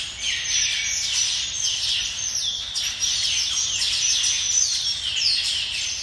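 A flock of Taveta golden weavers chatters continuously, dense overlapping high chirps and buzzy calls repeating throughout, fairly close and loud with no other sounds.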